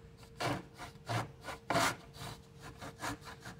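Hand saw cutting a wooden board in a miter box, three or four close rasping push strokes in a steady back-and-forth rhythm with softer return strokes between, no talk.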